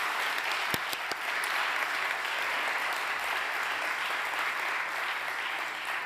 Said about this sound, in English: So a big, big applause for the education team